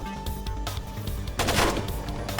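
Gunfire in the stealth shooter Splinter Cell, a dense burst of rapid shots over continuous game background noise, loud and close for a couple of seconds with a heavier crackling volley near the end.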